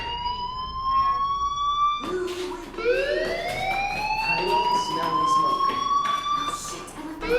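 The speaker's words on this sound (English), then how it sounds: "do you hear that fire alarm? That means you should be outside." Wailing fire alarm siren in the video game Life Is Strange, rising sweeping tones repeating loudly across the whole stretch, with faint game sounds underneath.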